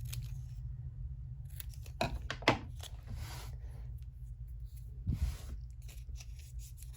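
Scissors snip vellum paper corners at an angle in a quiet room, with a few soft, brief cuts and light paper rustling.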